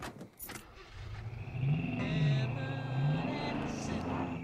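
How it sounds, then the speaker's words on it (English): A truck in Far Cry 5 being stolen and driven off, its engine rising into a steady low drone that holds after a few short clicks and knocks at the start, with faint game sounds over it. "Get out of the way, I'm stealing a truck."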